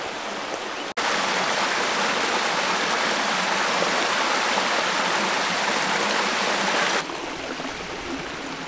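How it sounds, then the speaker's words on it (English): Rushing stream water at Marrinup Falls near Dwellingup, Western Australia, makes a loud, steady broadband roar that cuts in suddenly and holds for several seconds before dropping back to a quieter flow. "we are seeing running water."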